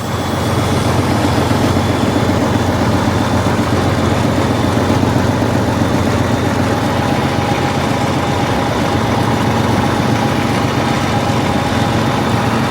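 A tractor engine idles steadily and loudly nearby, a constant low rumble with a faint whine, and no talking.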